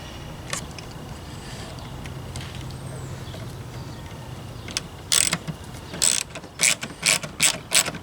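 A ratchet tightens screws on the Hellcat airbox being installed in a 2019 Dodge Challenger R/T Scat Pack Widebody, with quiet clicks at first and then a run of loud, rapid clicking bursts near the end.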